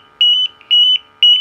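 Gas detector in a room with a propane torpedo heater, sounding a low-oxygen alarm: three bursts of loud, sharp electronic beeps, each a quick cluster of three tones, repeating at a steady rhythm with nothing else heard.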